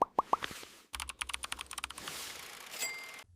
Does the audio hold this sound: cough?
no